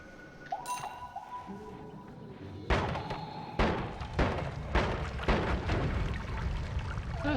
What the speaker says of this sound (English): That's a reasonable explosion.